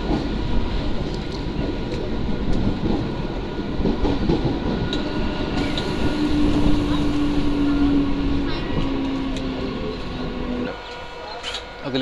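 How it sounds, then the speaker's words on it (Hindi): Local passenger train between Una, Himachal and Chandigarh running at speed, a loud, continuous rumble and rattle of the carriage heard from on board, with a faint whine rising partway through. "हमारी ट्रेन ने जो अपनी पुरानी स्पीड पकड़ ली है और काफी दूर उड़ा रही है भाई"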